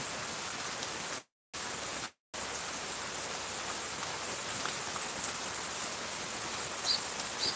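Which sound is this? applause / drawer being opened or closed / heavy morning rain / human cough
heavy morning rain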